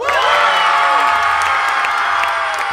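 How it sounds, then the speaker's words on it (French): A large crowd cheers and shouts loudly all at once, a dense, continuous roar of voices with whoops rising above it. "Ceux qui ont préféré Light, faites du bruit à 3"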